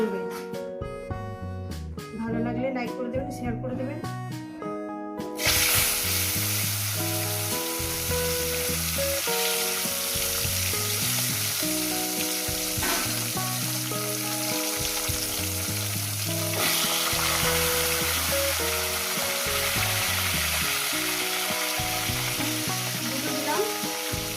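Tilapia fish sizzles in hot oil, a dense, loud crackling fry that bursts in after a quiet start and carries on steadily, with background music playing throughout.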